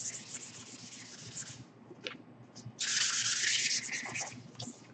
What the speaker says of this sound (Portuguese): Eu vou dar só uma lixadinha para acetinar a madeira.